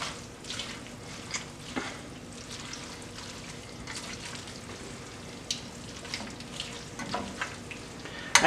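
Pasta in a pan with grated parmigiano reggiano and pecorino romano being stirred makes a quiet, continuous sizzle broken by soft scraping and clicking of the spoon.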